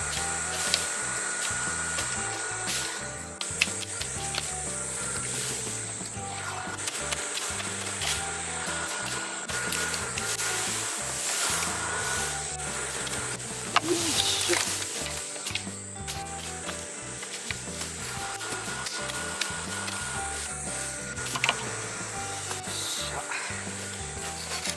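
A long bamboo stalk being sawn during an old-house wall restoration, with continuous rough rasping and scraping strokes, close and fairly loud, lasting the whole stretch without talk.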